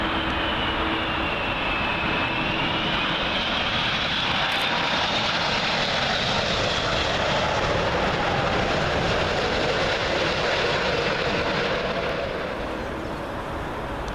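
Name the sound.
Airbus A380 jet arriving from Dubai, landing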